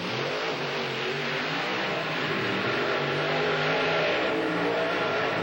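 Race car engine roaring during a race at a fairgrounds track, a dense steady drone of revving motors heard from a distance, continuous with no talk over it.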